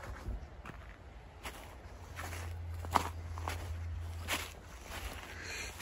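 Footsteps crunch across frozen ice on a river during Swedish deep cold around minus 18 degrees, several distinct close steps at an irregular pace over quiet background, with a faint low hum partway through.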